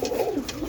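Roller pigeon cockbirds give a low, throaty coo that rolls and wavers through a brief moment, close and steady, with no talk over it.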